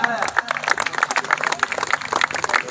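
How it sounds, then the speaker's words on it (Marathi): Scattered clapping from a crowd at a Shiv Jayanti celebration for children's mallakhamb pole demonstration, irregular claps mixed with talk and crowd noise throughout. "टाळ्या पाहिजेत या मुलांना, प्रत्यक्ष त्यांना बक्षीस म्हणजे टाळ्या"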